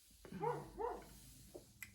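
A male dog gives two distinct yelping barks close by, followed by a couple of fainter short sounds in an otherwise quiet room.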